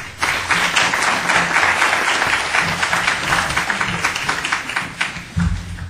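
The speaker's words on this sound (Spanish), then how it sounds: "Lo recibimos con un fuerte aplauso." Loud, close applause from a conference audience in Lima welcoming a speaker on family-focused public policy, dense continuous clapping with a few low thumps mixed in.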